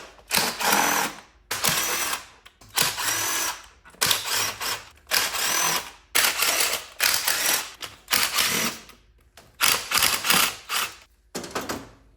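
Valve cover bolts come off a Jeep Cherokee XJ engine with a power tool, which runs in about eight loud whirring bursts separated by short pauses, close by and without talk.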